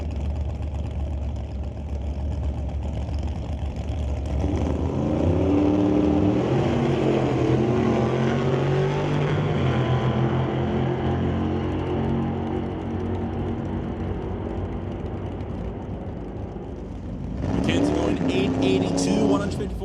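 Big-block drag cars, a 1969 Cougar with a 500 cubic inch motor and a 1987 Cavalier with a 505 big block Chevy, rumble and rev loudly at a raceway, engines climbing in pitch under an announcer's commentary, with a fresh roar near the end.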